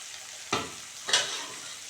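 Hot water hits fried masala in a hot pan for a tel koi fish curry, throwing up two sharp, hissing sizzle bursts close by, each trailing off quickly.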